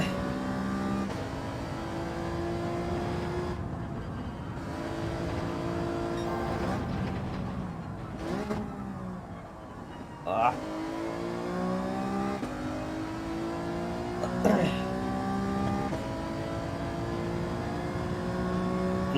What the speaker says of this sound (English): All about getting on the throttle early in these four-wheel drives.